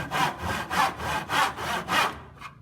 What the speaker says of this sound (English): I'm going to take my saw and I'm continuing to push in this direction.